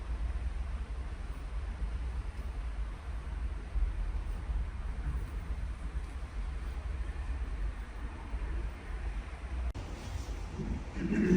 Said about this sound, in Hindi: एकदम से बारिश स्टार्ट हो गई है।